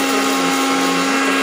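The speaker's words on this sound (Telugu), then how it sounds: "మిక్సీ జార్ తీసుకొని అందులో ఎల్లుల్లిపాయలు, జీలకర్ర వేసి ఒక్క చుట్టు ఇలా తిప్పేయాలి" A mixer grinder whirs steadily at full speed as it grinds garlic cloves and cumin seeds in its jar, a loud, close, constant motor whine with no pauses or talk.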